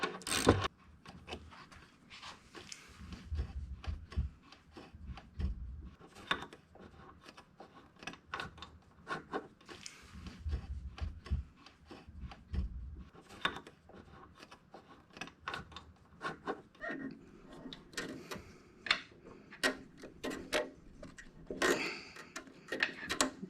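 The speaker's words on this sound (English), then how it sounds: "I'm using a wrench." A wrench ratchets on a bolt of a Yamaha R6 motorcycle during ignition coil replacement, giving quick runs of close, dry mechanical clicks that repeat in bursts through the stretch, with occasional knocks.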